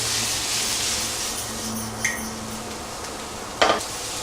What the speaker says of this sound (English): Once you have added in the grated cauliflower, give it a stir.